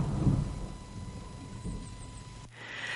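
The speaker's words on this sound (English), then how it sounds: "the sky split open into a thunderstorm" A thunderstorm rumbles low and heavy with rain around it, rolling for a couple of seconds before cutting off abruptly into quieter ambience.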